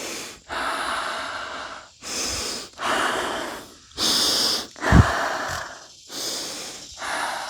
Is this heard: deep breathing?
yes